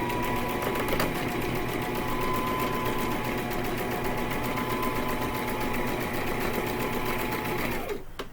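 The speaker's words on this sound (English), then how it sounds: "you're going to sew all the way down" A sewing machine stitches down the side of a fabric rice bag, a fast steady mechanical whir with a constant rapid needle rhythm, close and clear, running for about eight seconds before stopping.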